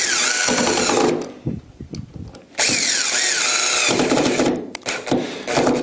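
A power drill drives black 1 3/4 inch screws into a bookcase wallbed sideboard in two loud, whirring bursts, with short pauses and clicks between them.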